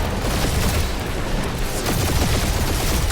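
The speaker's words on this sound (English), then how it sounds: "We're taking fire." Dense, continuous gunfire in a Marvel's Guardians of the Galaxy combat scene, a loud unbroken barrage of overlapping shots and booms heard alone with no voices.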